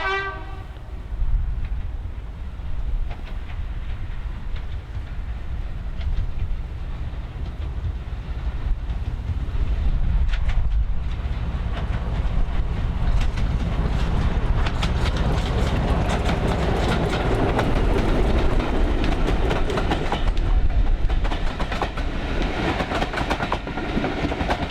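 Diesel locomotive D9537 hauls a southbound shuttle train at an East Lancashire Railway diesel gala, rumbling loudly and steadily throughout, with a horn note at the start and wheels clattering over the rails.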